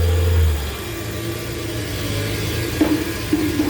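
An engine used for lifting box steel at a steel structure build runs at a steady low idle with a mechanical hum and a couple of faint clanks, with no talking.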